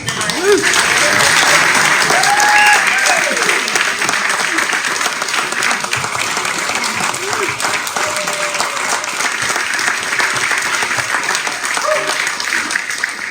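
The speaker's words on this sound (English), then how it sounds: "everybody stand up and a big round of applause" A roomful of people at a volunteer breakfast after a parade giving a big round of applause, loud sustained clapping with scattered cheers and voices over it.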